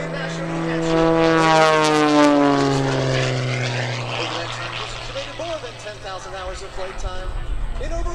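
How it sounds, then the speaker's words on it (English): An all-carbon-fiber MX-2 aerobatic airplane performs at an airshow, its propeller engine droning loudly with a pitch that falls as it passes, then fading into distant crowd and wind noise. "Rob's aircraft of choice for both aerobatic competition and airshow performances like the one here today is the all-carbon fiber reactor watch MX-2"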